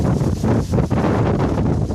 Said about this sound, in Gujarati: આજે પવન બહુ જ છે, કેટલો પવન ઉડે